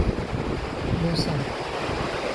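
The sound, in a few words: strong lake water flowing, Dongnae Lake, Busan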